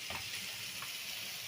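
Soybean and chickpea dal simmering in buttermilk in a pan with tomato, garlic, onion and ginger, a steady close sizzling bubble with faint scraping of stirring throughout, no talking.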